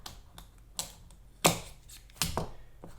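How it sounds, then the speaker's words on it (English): Scissors snip through a strip of velcro being trimmed for a GoPro mount, a few sharp, close cuts spaced apart with quiet handling noise between them. "I can cut this piece off right here,"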